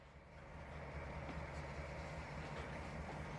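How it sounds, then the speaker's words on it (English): A train rolls slowly through coal hoppers in Trainz Simulator, a steady low rumble with faint clanks and rail noise, moderately quiet and unbroken throughout. "give it a little throttle to move the train slowly through the coal hoppers"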